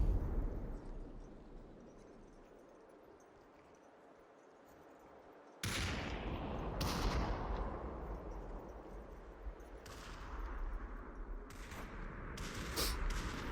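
Gunfire in the VR shooter Population: ONE during a competitive match: a quiet stretch, then loud bursts of shots and booming impacts that come and go over a continuous rumble.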